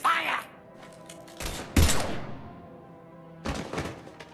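Gunfire rings out in the video game Mass Effect 3, a few separated bursts of sharp shots and thuds with faint tonal game ambience lingering between them.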